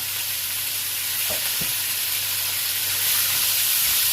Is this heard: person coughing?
no